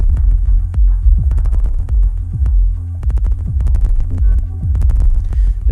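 A bit crush effect on a Reloop Beatpad 2 DJ controller turns playing music into a loud, throbbing, gritty bass pulse with sharp crunchy transients repeating in a steady beat.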